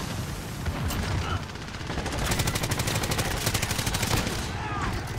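A PKM machine gun with a thermal sight rattles off rapid sustained automatic fire in Modern Warfare, a dense steady stream of close, loud shots.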